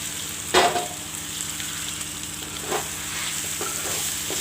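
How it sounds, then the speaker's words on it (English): Mutton frying with masala in a pan for dhaniya mutton curry: a steady close sizzle with a few brief scraping stirs cutting through. "I will fry the mutton along with the masala a little bit"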